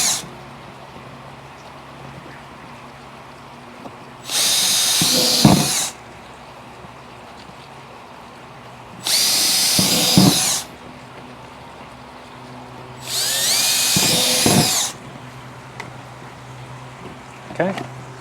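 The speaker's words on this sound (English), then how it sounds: "Use your drill bit and drill these things out." A power drill bores out rivets on a DIY airbrush spray booth build, three separate loud whining bursts of a few seconds each with quiet background gaps between them.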